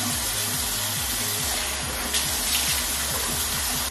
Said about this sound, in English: And then I just rinse my face, obviously.